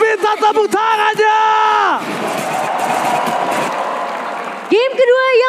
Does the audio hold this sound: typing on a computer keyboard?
no